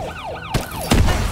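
A wailing ambulance siren in the Exo Zombies video game sweeps up and down in repeated cycles, loud and close, with two sharp percussive hits breaking through partway.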